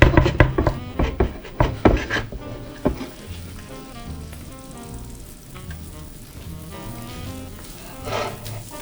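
Börek sizzles and crackles steadily in a hot frying pan over low heat, with a few louder clattering knocks at the start and no voices.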